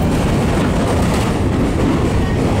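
A train runs through a tunnel, a steady loud roar with rumbling wheels and faint rail clatter, close and continuous without talk.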